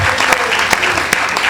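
Brief burst of dense audience clapping at a Hindi comedy poetry show, loud and close, with a voice faintly mixed in.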